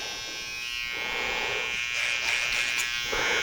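Compact mini hair clippers buzz steadily while tapering around the ear on a loose men's haircut, a continuous close electric whine that swells slightly as the blades work the hair.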